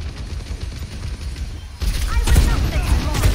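Rapid gunfire bursts in the Overwatch 2 video game, starting abruptly midway and continuing as dense overlapping shots over low booming game audio.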